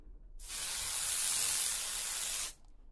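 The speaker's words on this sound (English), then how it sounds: "We're going to spray a little bit of more particulate in the air to get a better look at that beam." A steady aerosol spray of haze hisses loudly into the air for about two seconds, starting and stopping abruptly, with quiet room tone on either side.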